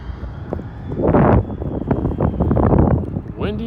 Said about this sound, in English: Well, it's very windy.